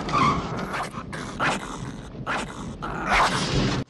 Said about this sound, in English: some kind of genetically modified fish that barks like a small dog